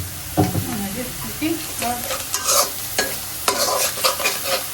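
Onions fry and scorch in a hot pan with loud sizzling, broken by several sharp stirring scrapes and clatters in quick succession, close by.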